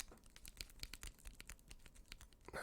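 A game controller's circular thumb pad being moved, giving soft, quick clicks and faint plastic rattles in an irregular rhythm, close and quiet with no voices.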